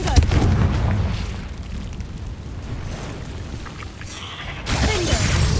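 A Confringo blasting spell cast in Hogwarts Legacy inside a cave: a loud booming blast at the start with a rumbling fiery tail, then a second burst of crackling noise near the end.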